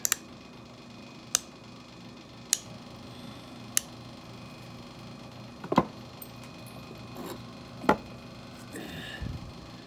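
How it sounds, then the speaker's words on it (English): A stone spall being pressure flaked with a handheld tool, giving sharp isolated clicks and small cracking snaps spaced a second or two apart against a quiet room background. "so I'm gonna have to pressure flake it out."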